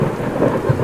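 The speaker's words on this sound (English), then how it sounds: "The thunder is also in there." Rumbling thunder with steady rain in a swamp level of a video game, a continuous low roll with a brief louder swell near the end, heard alone without voices.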